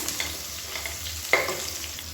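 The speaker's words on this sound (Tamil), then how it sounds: "இப்போ இந்த வெங்காயம் பூண்டு நல்லா வதங்கட்டும், கலர் மாறணும்" Sliced onion and garlic sauté in hot oil in a pan for a spicy kara kulambu, giving a close, steady crackling sizzle with one sharp clack of a spoon against the pan partway through.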